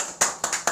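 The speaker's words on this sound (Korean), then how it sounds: "우리 예배를 받으신 하나님께 영광의 박수 올리겠습니다" A church congregation gives a short burst of applause during Sunday worship, a few sharp, loud clustered claps arriving in quick uneven bursts.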